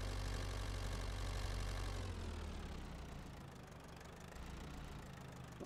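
A truck engine idles in Farming Simulator 22, a steady low rumble with a knocking edge that drops slightly in loudness after a couple of seconds and then holds on, close and alone.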